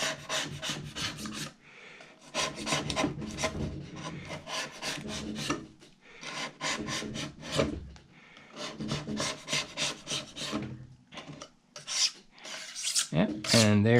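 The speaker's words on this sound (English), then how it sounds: "now I got a little razor knife here. And we should be able to just go right ahead along here and scrape this right off." A razor knife scraping old glue off a wooden surface, producing bursts of harsh, close, rasping strokes in rhythmic groups separated by short pauses.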